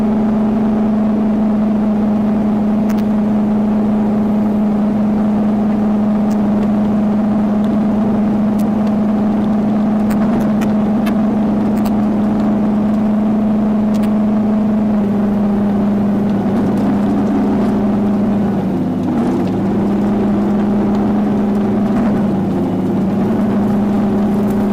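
A Bobcat 328-D mini excavator engine idling and running steadily at close range, a loud continuous diesel drone with a strong tonal hum, holding even for about twenty-five seconds with a slight wavering near the end.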